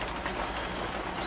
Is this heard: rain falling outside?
yes